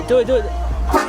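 A short, close honk from a train horn set off as a prank, mixed with a person speaking briefly over it.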